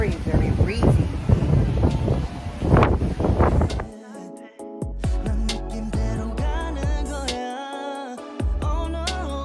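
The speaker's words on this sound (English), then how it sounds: "It's so windy, it's blowing my dress." Gusty wind on Maui, Hawaii, buffets the microphone in a loud, roaring rush at first, then gives way to music with an occasional voice.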